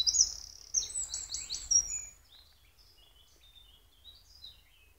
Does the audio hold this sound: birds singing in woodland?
yes